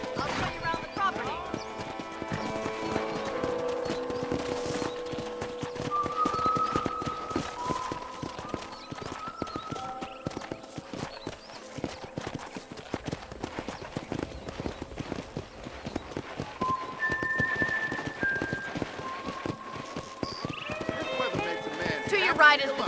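Horse hooves clip-clop steadily through a ride in Red Dead Redemption 2, a rhythmic gallop running the whole time beneath a tonal musical score and occasional talk.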